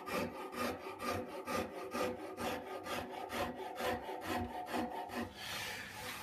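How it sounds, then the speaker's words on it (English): A saw rasp files a wooden guitar neck for a custom Telecaster build, giving steady rhythmic rasping strokes, close and fairly loud, with no voices over them. "so I'll just take that down with the saw rasp"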